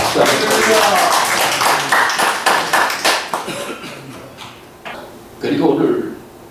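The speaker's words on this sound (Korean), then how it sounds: "우리 박수 한번 드립니다." A congregation at a Wednesday church service applauds in a dense burst of clapping that gradually thins and fades, followed by a voice speaking.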